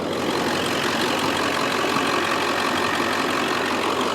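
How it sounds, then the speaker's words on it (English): A 2002 Ford F250 with a 7.3 Powerstroke diesel idles steadily at close range, a dense, continuous rumble with even loudness and no speech over it. "I'll let you hear the engine."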